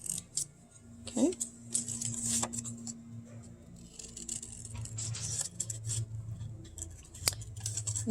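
Scissors cutting paper wings for a walking chicken craft, with close, quiet snips and crisp paper rustles coming in uneven bursts, and a faint voice in the background.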